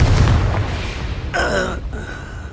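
A Confringo explosive spell blast from Hogwarts Legacy, a loud low boom at the start that rumbles and fades, followed by a brief voiced gasp or exclamation.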